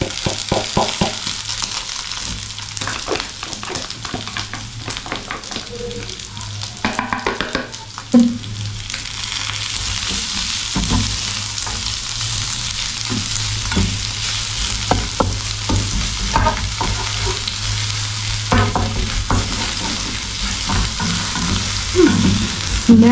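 Garlic frying in a pan for crispy fried pork, a steady loud sizzle with scraping stirs of a utensil breaking through now and then, no voices.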